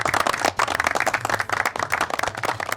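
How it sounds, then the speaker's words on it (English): A crowd claps together in dense, steady applause with a subdued, solemn feel, loud and close, with no voices over it. "You see a number of people are all clapping in the crowd. It's a solemn clap, but a genuine and an appreciative one."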